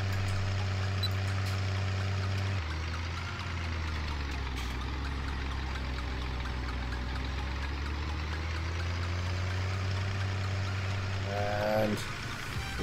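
Engine idling and slowly losing RPM in a video game, a steady heavy low drone that drops in pitch partway through and holds there, with a brief rising whine near the end.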